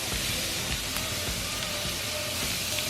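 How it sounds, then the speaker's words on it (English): Mushrooms and barley sautéing with salt in a pan over medium heat, giving a steady, close, even sizzle and hiss with faint stirring ticks, no voices. "we're gonna let it saute on the medium heat"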